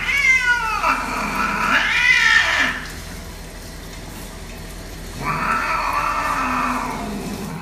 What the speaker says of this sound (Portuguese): Se você já deu banho em um gato, sabe como é difícil